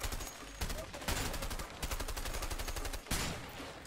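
Shotgun blasts from the video game A Way Out, loud sharp bursts layered over dense in-game gunfire, with a few distinct heavy shots standing out from the busy chatter.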